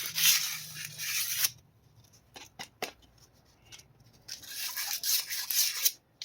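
A tool lightly scrapes rust from inside the front lower control arm of a Honda Civic in harsh, close rasping bursts. The bursts break off into a quiet gap with a few short scratches, then the loud scraping resumes.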